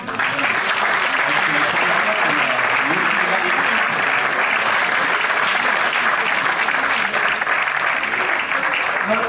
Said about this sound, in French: Eh ben, on peut les applaudir.